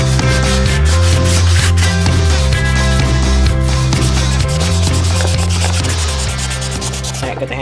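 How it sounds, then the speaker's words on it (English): Sandpaper rubs over an exotic wood knife handle in steady back-and-forth strokes, close and continuous, under a loud droning music bed with a repeating beat. "Got the handle all sanded."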